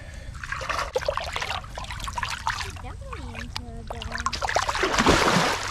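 A released carp splashes into the Chicago River, a burst of water trickling and splashing close by, with excited voices talking around it.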